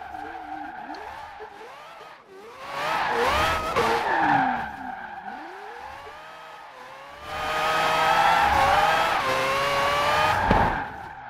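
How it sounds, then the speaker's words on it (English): Drifting 2002 Mazda RX-7 Spirit R Type A in Forza Horizon 4, handbrake pulled to end the slide; sustained tire squeal with rising and falling pitch over a revving rotary engine, swelling loud twice. "So the end of that drift was all handbrake."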